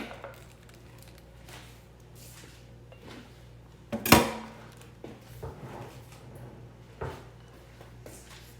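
Dishes and utensils clink and knock as a home kitchen is tidied during stir-fry cooking, with scattered soft clatters, one sharp loud bang near the middle, and a low steady hum beneath.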